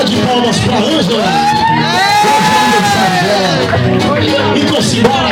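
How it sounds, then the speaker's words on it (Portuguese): A close crowd cheers for Ângela as she arrives, with whoops, shouts and excited overlapping voices in a lively babble throughout. "Uma salva de palmas pra Ângela."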